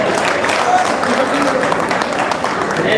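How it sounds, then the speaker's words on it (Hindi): An audience at a Hindi poetry gathering (kavi sammelan) in Singoli claps steadily in a dense, loud, continuous burst of applause that fills the whole stretch. "एक बार जोरदार तालियां उनकी हिम्मत के लिए"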